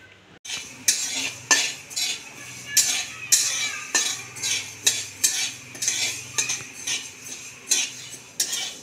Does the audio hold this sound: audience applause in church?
no